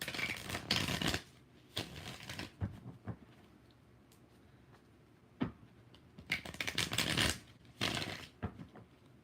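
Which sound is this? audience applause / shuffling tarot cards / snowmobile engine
shuffling tarot cards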